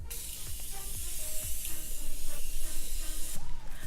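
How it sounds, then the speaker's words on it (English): Morphe Continuous Setting Mist sprayed during a makeup routine, a steady airy hiss running the whole few seconds with no talk over it. "I'm going to take the Morphe Continuous Setting Mist"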